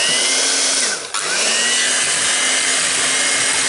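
An electric hand mixer runs in a small home kitchen while batter is prepared for a Black Forest cake: a loud, steady motor whine that dips briefly in speed partway through, then returns to a constant drone.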